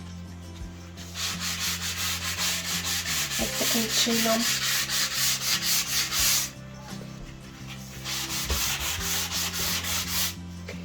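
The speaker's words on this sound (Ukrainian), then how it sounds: "Зараз ще хочу пройтися по ним ось такою шліфувальною губкою" Steady rhythmic rubbing of a sanding sponge on a mirror's wooden frame, close up, with a brief pause before the strokes resume; a voice speaks briefly.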